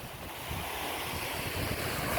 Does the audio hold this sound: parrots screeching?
no